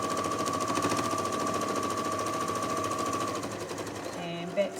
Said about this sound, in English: now I'm going to sew straight across here, following that line